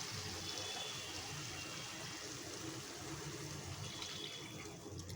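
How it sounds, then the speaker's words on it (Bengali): Milk poured into a simmering chicken roast masala in a pan, a steady, soft liquid pour that runs unbroken for several seconds with no talking. "দুধ ঢেলে দেব।"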